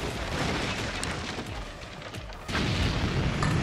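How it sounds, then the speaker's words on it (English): Missile launches and blasts in the ship-and-fort battle game Forts, a dense continuous rumble of booming explosions with a heavier burst kicking in partway through, loud and close with no talk. "Fire a missile."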